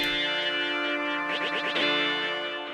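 A bright synth melody rings out with echoing delay and a reverb wash, notes repeating and trailing into one another.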